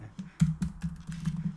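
Keys clatter on a computer keyboard in a run of quick, irregular keystrokes with a few heavier hits, close and moderately quiet, no voices.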